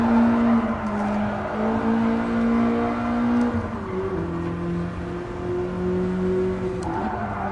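A BMW E30 M3 engine in a VR racing game holds steady high revs with a sustained tonal drone, then the pitch shifts and wavers as it bounces against the rev limiter, loud and continuous with no talking.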